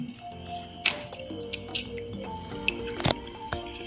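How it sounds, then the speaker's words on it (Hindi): Cold water runs from a Samsung fridge dispenser, trickling and dripping with scattered clinks and squishy splashes, close by and without talk. "ये ठंडा पानी आ रहा है इसमें से."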